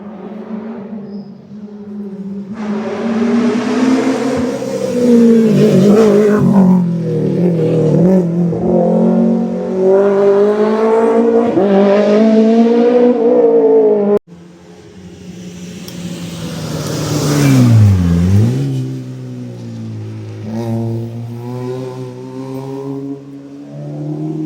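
Rally cars at a nighttime stage, Subaru and N2/A6 class, roar past at speed one after another. Engines rise and fall as they come near and pull away, loud and sustained, with no talk.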